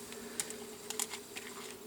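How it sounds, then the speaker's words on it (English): Honeybees buzzing around the entrance pipe of a hive on a bee farm. The buzzing is faint and close, with a few brief louder passes. "This is the pipe, the entrance and exit, where the bees run in and out to get into the hive, or out to go foraging"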